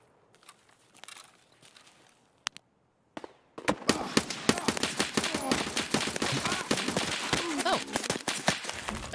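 Rapid automatic gunfire in Escape From Tarkov, a few isolated shots at first, then a dense, loud barrage of cracking bursts that runs to the end, with voices talking through it.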